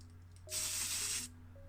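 Light grey primer hisses from a spray can onto a small die-cast Matchbox E-Type Jaguar model car in one steady burst of about three-quarters of a second, close and fairly loud over a quiet background hum.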